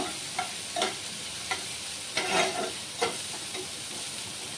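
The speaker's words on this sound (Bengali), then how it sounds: "একটু নুন দিয়ে দিলাম, বাস এগুলিকে একটু ভাজা ভাজা করার জন্য।" Food frying in a pan with salt and Maggi masala sizzles steadily at low volume, broken by a handful of evenly spaced spatula scrapes and taps as it is stirred.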